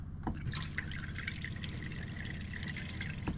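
Cold water runs steadily from a motorhome tap into the sink, a continuous close splashing flow heard alone for the whole stretch, with a brief knock near the start.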